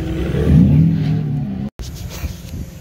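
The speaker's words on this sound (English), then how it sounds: "Your turbo is so loud." A BMW 335is turbocharged engine accelerating, a loud close rising engine note with the drone climbing in pitch, broken by a brief dropout before a lower, rougher run continues.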